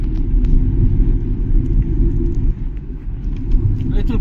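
Cars idling in a queue of traffic in Pune, a continuous deep engine rumble that stays close and steady, dipping slightly midway.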